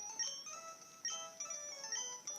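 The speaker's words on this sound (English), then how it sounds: "Just when you're about to get to the top of the ladder, he rings you." A phone rings in the Pokemon Emerald video game: a faint, chirpy electronic ringtone of repeated high beeping tones in short bursts, heard alone.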